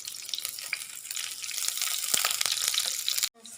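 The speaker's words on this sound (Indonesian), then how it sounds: "Kita tumis ya guys." Onions sizzling as they are sautéed in a pan while making tempeh mushroom steak, a steady close hiss with faint stirring clicks that cuts off abruptly near the end.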